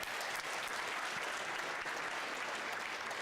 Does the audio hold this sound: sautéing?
no